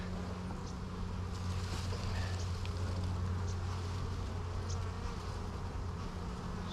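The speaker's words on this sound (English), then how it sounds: "Wow, the bees are really doing something interesting here." Dense, steady buzzing of honeybees swarming over an open hive during a spring inspection, loud and close, continuous throughout with no talk.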